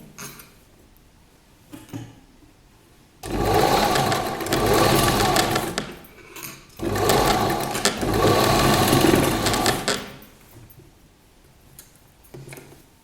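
An electric sewing machine runs in two sustained bursts of rapid whirring stitches on a girl's party-wear gown, with quiet pauses and light handling clicks between them.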